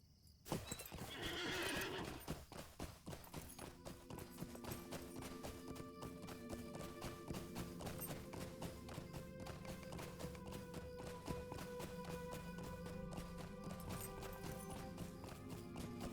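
Horse hooves clip-clop at a steady running rhythm in the online game Lord of the Rings Online, with a whinny near the start and game music playing beneath the close, loud hoofbeats.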